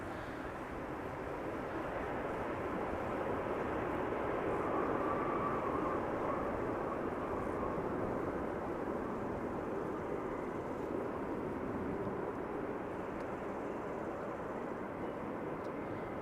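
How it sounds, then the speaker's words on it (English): Aircraft touching down at Amsterdam Schiphol Airport on a sunny day, heard as a steady, moderately distant broadband roar of engines and rolling that holds even throughout, with no talk. "Nice touchdown there."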